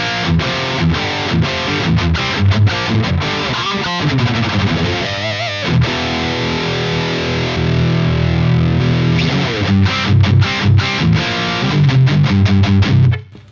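Electric guitar through a Seymour Duncan 805 overdrive pedal, an 808-style design, plays loud, gritty chords and riffs with short choppy strums, then a sustained ringing passage. No voices are heard.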